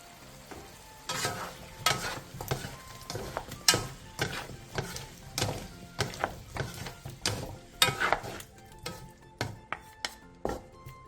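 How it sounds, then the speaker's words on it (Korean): Paprika, onion, carrot, green chili and green onion stir-fried in a pan, with repeated scraping and tossing strokes over a steady sizzle, close and fairly loud, no voices. "20분 뒤 파프리카, 양파, 당근, 청양고추, 대파를 넣고 2분 정도 볶아주세요"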